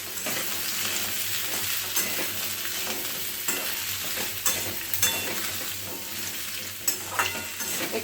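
Potatoes with black cumin (kalo jeera) for alur torkari stirred in a frying pan, a continuous close sizzle broken by spatula scrapes and clatters every second or so, with no talking.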